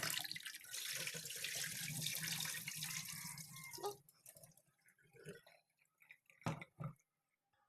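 Running water splashes steadily while rice is rinsed before cooking, a continuous wash that stops after about four seconds, followed by a few scattered swishes and drips of grains and water.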